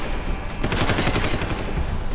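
Assault rifle gunfire in the game Deus Ex: Human Revolution, a dense, continuous rapid-fire burst with rattling reports and no voices.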